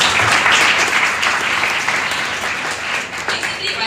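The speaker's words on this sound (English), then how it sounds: "Give a round of applause to yourself" An audience at a fitness and wellness session applauds, a loud, continuous wash of many hands clapping with voices mixed in underneath.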